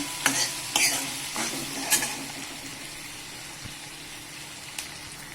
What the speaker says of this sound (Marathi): थोडं मीठ टाकून आपण हलवून घेऊया